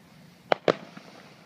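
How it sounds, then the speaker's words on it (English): Canada Day fireworks in Fort Saskatchewan, Alberta go off as two quick, sharp bangs about a fifth of a second apart. Fainter pops follow, heard from a distance over quiet outdoor background. "This is Canada Day fireworks in Fort Saskatchewan, Alberta."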